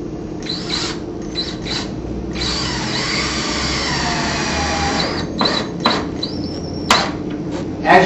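A trim head screw is driven with a power drill into a pre-drilled hole in bullnose trim, giving a steady whirring drill run of several seconds between shorter bursts, close and fairly loud.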